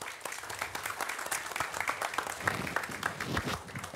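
Warm audience applause for panel speakers at a Scandinavian infrastructure talk on stage, dense steady clapping that fills the whole stretch with no speech over it.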